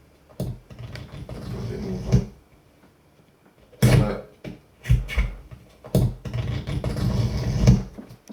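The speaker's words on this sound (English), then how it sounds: "so basically that's the sound of the gaffer tape being recorded" Gaffer tape is pulled and torn close to a microphone, giving bursts of rough, crackling ripping noise with short gaps between them and a boomy low end.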